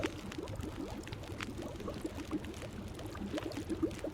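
Liquid sounds from drinking water in The Long Dark, a soft continuous trickle and gulping texture, faint and steady with no talking.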